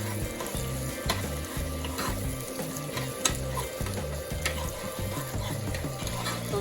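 Onion and tomato paste frying in a pan for Honduran enchiladas, a steady close sizzle with a rhythmic scraping stir beneath it, no talking.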